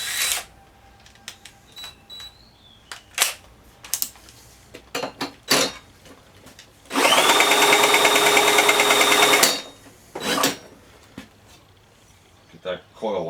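A cordless drill fitted with a 3/4-inch socket spins in a loud whirring burst of about two and a half seconds, close by, among clicks and handling noises from work on an MTD Yard Machines push lawnmower.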